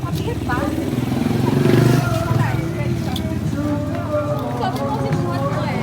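A motorcycle engine swells as it passes close by on a street, then fades, while several people chatter and call out over it.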